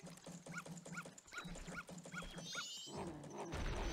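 A dog in The Legend of Zelda: Majora's Mask whimpers in a steady run of short, high, rising-and-falling whines, then louder game noise comes in near the end.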